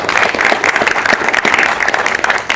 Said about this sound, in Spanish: les pido que también le den un fuerte aplauso.